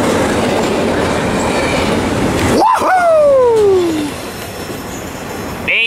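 A heavy BNSF freight train rolls through Fullerton, a steady loud rumble with squealing wheels sliding downward in pitch as cars pass close by.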